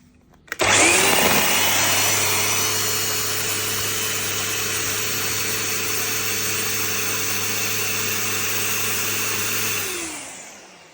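A 1.6 kW electric string trimmer switched on from a portable power station, kicking in abruptly with a loud steady motor whine and hum for about nine seconds, then spinning down.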